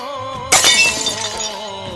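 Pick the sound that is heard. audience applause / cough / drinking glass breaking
drinking glass breaking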